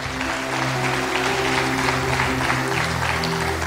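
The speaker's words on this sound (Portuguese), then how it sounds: "Aplauda o Senhor em nome de Jesus" A church congregation applauds during a sermon, steady many-handed clapping running throughout over a sustained musical backing with low held tones.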